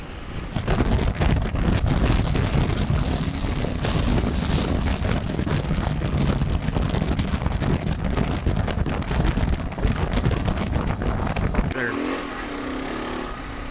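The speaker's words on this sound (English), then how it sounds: "I'm breaking the rear tire loose at 50 miles an hour" A motorcycle ridden at about 50 miles an hour with the rear tire breaking loose, heard as loud constant wind buffeting over the engine roar that eases off near the end.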